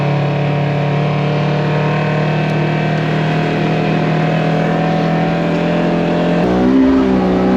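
A Polaris RZR XP 1000 UTV fitted with 32-inch tires drives along trails and rocks, its engine droning loud and steady up close, shifting pitch near the end as it changes speed.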